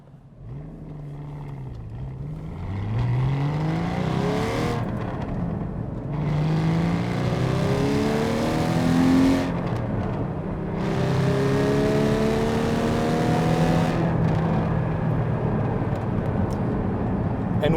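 A Porsche 981 GT4 with its sports exhaust switched on revs hard through several rising gear pulls. The engine drone is loud and close, and brief drops in sound mark the shifts between gears.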